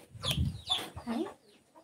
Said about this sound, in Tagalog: Kahol ng aso. Siyak ng manok.